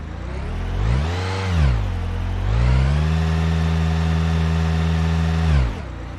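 A car engine runs steadily and revs up twice, the pitch rising and falling in loud, close sweeps before settling into a sustained higher idle during an alternator charging-voltage test, then cutting off abruptly.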